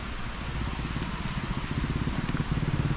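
Steady rain falls outdoors over land being cleared, a constant close hiss of drops with no talking.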